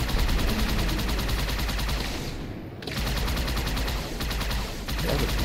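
Continuous rapid gunfire in the video game Halo 2 Anniversary, a loud, dense rattle of shots with one brief dip partway through.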